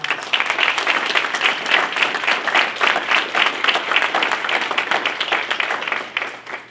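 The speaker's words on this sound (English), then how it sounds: "let's give our 3 inductees another great round of applause" Sustained, dense applause from a banquet hall audience honoring three alumni athletic hall of fame inductees at an awards ceremony, steady and full throughout before tapering slightly at the end.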